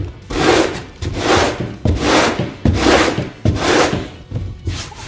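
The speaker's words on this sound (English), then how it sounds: "I'm going to turn on the electric sander" Rhythmic rasping strokes of a sanding block, about six back-and-forth passes, scrape across a painted canvas at close range, each stroke a loud swell of gritty friction.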